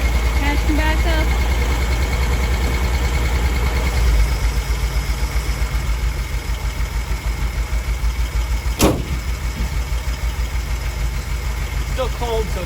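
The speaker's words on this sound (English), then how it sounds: "But it definitely is idling better." Old Willys truck with a 226 engine idling after troubleshooting, a loud, steady low rumble with rhythmic pulsing, close by, with a sharp brief clank partway through.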